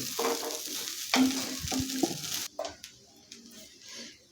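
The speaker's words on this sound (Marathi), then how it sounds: "गॅसची फ्लेम कमीच आहे वाढवायची नाही तर आपण असं दोन मिनिट असं हलवून घ्यायचं आहे" Sabudana khichdi being stirred in a pan over a low flame, close spoon scrapes and soft squishy turns of the mixture over a gentle background sizzle, no talking.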